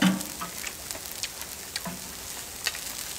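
Pork belly frying on a cast-iron pot lid, a close, steady crackling sizzle with sporadic sharper pops and spits throughout the short stretch.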